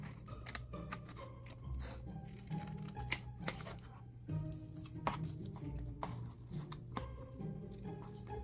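Scissors cut through folded fabric for a Halloween Addams Family costume, giving a quiet run of irregular snips and rustles close by with no talking.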